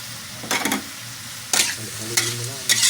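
Buttered shrimp with pepper and lemon is stirred in a pan over a steady sizzle, with four short, loud bursts of scraping spaced through the clip.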